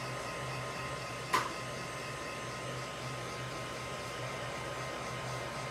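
A heat tool blows steadily to dry chalk paste on a shirt laid on a mat, a faint, even whooshing hum throughout with one brief click near the start.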